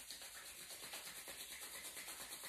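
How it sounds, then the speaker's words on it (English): Two hands rubbing briskly together to warm up, a close, steady rhythmic swishing friction repeating quickly and evenly, faint and alone. "Rub our hands together until you feel nice and warm."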